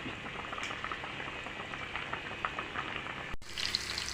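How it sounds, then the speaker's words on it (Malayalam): Karimeen (pearl spot) fish curry bubbles and simmers steadily in a pot, a continuous gurgling boil with small pops, ending after a brief knock of the lid. "അപ്പം നമ്മുടെ മീൻകറി അവിടെ തിളയ്ക്കുന്ന സമയം കൊണ്ട്"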